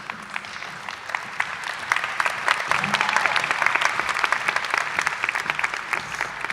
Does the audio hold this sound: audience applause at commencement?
yes